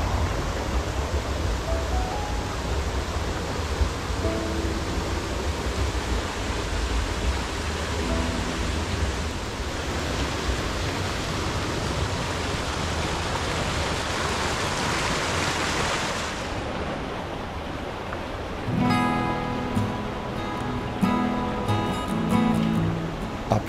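Steady broadband rush of water flowing along the Kuenser Waal, a roughly two-kilometre irrigation channel in South Tyrol, close and continuous throughout, with a brief shift in texture near the end as other sounds join.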